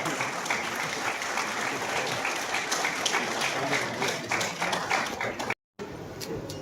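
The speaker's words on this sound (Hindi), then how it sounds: "जोरदार तालियों से अभिनंदन करें।" Sustained loud audience applause at a Kurukshetra religious gathering, steady dense clapping filling the clip before a brief dropout, then resuming more thinly.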